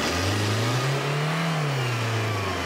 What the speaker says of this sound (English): That's lots of vehicles doing lots of revving.